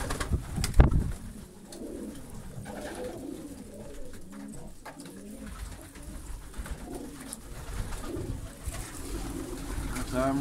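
Pigeons coo softly inside a dovecote, a low repeated burbling in the background with a brief louder knock near the start.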